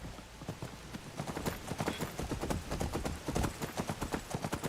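Horse hooves clip-clop steadily in Skyrim, a close, brisk run of rapid, evenly spaced thuds continuing throughout without any talking.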